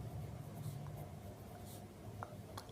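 Faint scratchy marks of writing on a board during a class 6 math lesson, soft and intermittent against quiet room tone.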